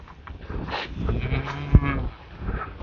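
Cattle in a pasture give a single loud, drawn-out moo close by, with faint farm background around it.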